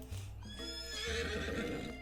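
In the Colonel Sanders dating sim video game, a horse gives a loud, drawn-out whinny over steady hoof clip-clops, filling the moment with no talk.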